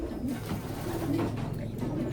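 Racing pigeons coo in a low, soft, repeated rumble, close by and continuous for a couple of seconds with faint background noise.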